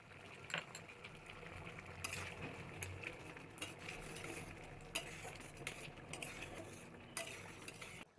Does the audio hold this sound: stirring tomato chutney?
yes